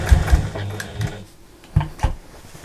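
A sewing machine runs close by, back-stitching to secure a seam on a large fabric storage bag: a short whirring burst, then a few separate mechanical clunks, with no voices.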